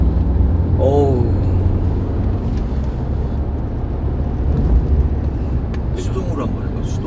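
A BMW 520d with four-wheel drive accelerates in third gear, a strong, steady engine drone throughout, with voices talking over it.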